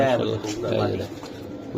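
Racer and Giribaz pigeons coo close by while someone talks over them, the soft throaty cooing rising and falling beneath the speech for under two seconds.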